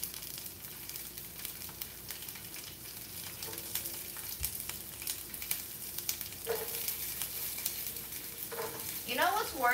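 Asparagus frying in a pan right beside a computer gives a steady, close sizzle with occasional stirring scrapes and clinks, with no voices over it.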